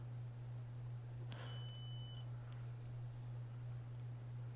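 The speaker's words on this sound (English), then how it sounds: "the beeps you heard was me touching the probe" A short high electronic beep from a multimeter continuity test rings for under a second over a steady low hum, then the hum continues alone.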